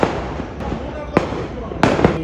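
Firecrackers burst at a New Year celebration in Munnar, India: a few sharp cracks and pops at a moderate distance over a steady crackling background, with faint voices nearby.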